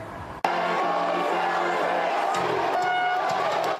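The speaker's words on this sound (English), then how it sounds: "The crowd in Boston going wild over the Celtics, both at the rolling rally and after." A Boston crowd celebrating the Celtics roars and cheers after a sudden start, a loud, sustained wall of voices, whoops and shouts that holds steady for several seconds.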